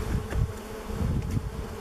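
A dense swarm of bees drones loudly and continuously close by from an old beehive left unopened for over thirty years and caked with decades of propolis, with rising and falling pulses of buzzing and no voices.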